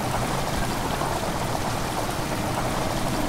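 Water rushes into a chamber in a loud, unbroken roar, a dense splashing torrent close by that holds steady throughout without any voices.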